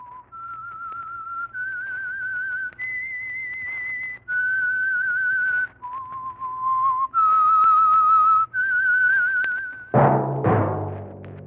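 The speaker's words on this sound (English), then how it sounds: "That whistle is your signal for the Signal Oil Program, The Whistler." A whistled theme signal for the old-time radio mystery program The Whistler, sponsored by Signal Oil: a clear, solo melodic whistle of sustained rising and falling notes, ending in a brief burst of noisier sound.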